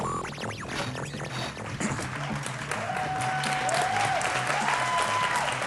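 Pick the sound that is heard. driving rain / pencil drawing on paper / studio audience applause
studio audience applause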